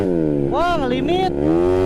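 A Yamaha Mio J scooter with a 113cc engine revs hard against its limiter, a loud, close buzzing whine that stutters and bounces at the top, with a voice briefly over it.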